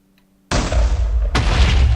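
TNT cannon explosions in Minecraft, two loud booming blasts in quick succession, the second hitting just under a second after the first, each with a sustained rumbling tail.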